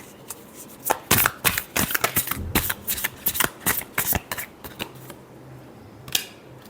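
Tarot cards being shuffled by hand in a series of crisp, rapid riffles and flicks, close and fairly loud, with brief pauses between bursts and no talking.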